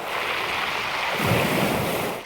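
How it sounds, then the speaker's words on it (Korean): Pebbles rolling and clattering in the surf on a pebble beach in South Korea's Jeolla or Gyeongsang coast, a steady rushing wash of waves that swells slightly louder midway, with no voices. "이 소리는 그 돌들이 구르는 소리입니다"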